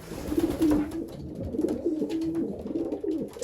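Soft repeated cooing of pigeons in a nest box inside a loft, a low warbling call rising several times at close range with light rustling between.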